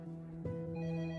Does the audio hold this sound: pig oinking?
no